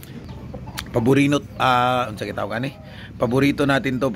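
A young rooster (stag) clucks in short bursts under close conversational speech, its calls mixed with the talking.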